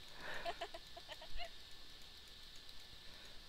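Chicken clucks from the video game Minecraft, during a Mineplex Block Hunt match: a quick run of short, moderately loud clucks in the first second and a half, then only faint game ambience.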